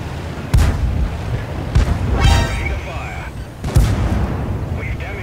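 Tank cannon fire in World of Tanks from a British Valiant, with three booming shots spaced about a second or more apart, each trailing off into a rumbling tail, and faint sirens and mechanical whines between them.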